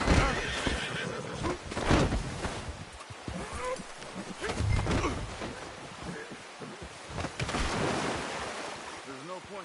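A horse neighs loudly a few times over a wash of ambient noise, with hoof clops and a low rumble around it, in a cowboy video game.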